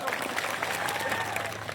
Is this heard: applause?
yes